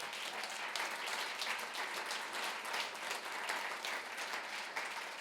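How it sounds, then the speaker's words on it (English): Audience applause at a Denver Startup Week stand-up comedy spotlight, a steady wash of many hands clapping, fairly distant and soft, continuing throughout with no voices over it. "One more round of applause for yourself."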